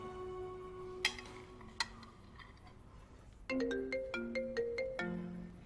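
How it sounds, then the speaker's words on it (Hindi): A phone ringtone plays a bright, rhythmic electronic melody, loud and close, after a couple of faint ticks. "तुम्हारा फोन आ रहा है।"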